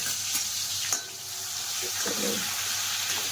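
Ginger, chili and garlic paste sizzling in hot tempering oil for pav bhaji, a steady loud hiss throughout with a few stirring knocks.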